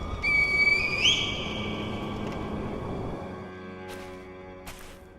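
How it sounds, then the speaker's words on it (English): A high, reedy whistle signal in Sekiro: Shadows Die Twice rises briefly over a steady musical background, followed by a couple of faint bright chimes. "Once you find it, signal me with a reed whistle."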